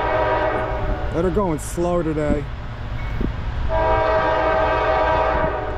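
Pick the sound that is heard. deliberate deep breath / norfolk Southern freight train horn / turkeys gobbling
norfolk Southern freight train horn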